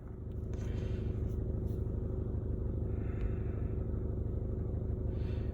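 Car engine with a head gasket repair product in its cooling system, running for over an hour; a steady, low, rumbling idle heard close and fairly quiet, without speech.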